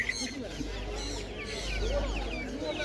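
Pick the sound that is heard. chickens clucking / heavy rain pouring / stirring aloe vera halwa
chickens clucking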